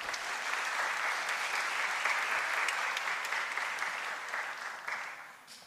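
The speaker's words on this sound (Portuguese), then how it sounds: "Uma salva de palmas" Sustained applause from an audience at an education project award event, a dense, even wash of many hands clapping that holds steady for several seconds before tapering slightly at the end.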